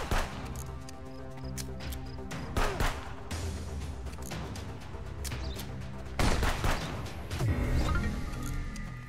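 Gunfire in the Contraband Police video game comes in irregular bursts of sharp shots and rapid volleys, some loud and close, others lighter, spread across the stretch with little pause between them.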